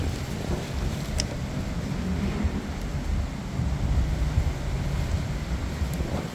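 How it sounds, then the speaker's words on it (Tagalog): Steady strong wind rushes across the microphone, a continuous low roar with a faint sharp tick now and then. "mahangin sobrang hangin ha ah."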